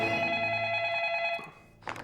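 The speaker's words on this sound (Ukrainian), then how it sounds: "Від телефонного дзвінка." A telephone bell rings loudly in the horror film Mama, one sustained bright ring that cuts off partway, followed by a brief softer noise.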